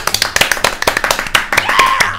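One person claps hands in a family home setting, a series of sharp close claps in an uneven quick rhythm, loud and dry, with a little talk in the background.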